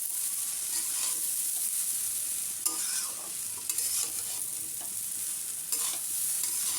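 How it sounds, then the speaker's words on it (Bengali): Chow mein is stirred in a hot pan with soy sauce and salt, giving a steady sizzling hiss with occasional scraping and clanking of the spatula against the pan. "দিয়ে এবারে ভালো করে মিক্স করে নেবো চাউমিনের সাথে"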